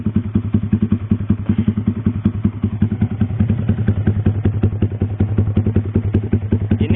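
A Yamaha R15 V3 motorcycle fitted with a WRX GP6 aftermarket exhaust idles close by with a loud, rapid, lumpy exhaust pulse, steady and uneven in rhythm throughout.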